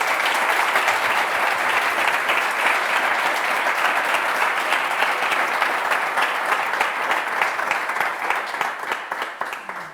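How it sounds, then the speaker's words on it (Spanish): Steady, dense applause from a conference audience after a round-table panel discussion on reliability, maintenance and digitalisation, sustained throughout and tapering slightly at the end. "Un aplauso para ellos."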